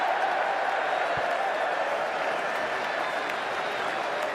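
A cricket crowd at an England Ashes Test roars and applauds after a six from a sweep shot into the stands. Dense, sustained applause and crowd noise carry evenly throughout.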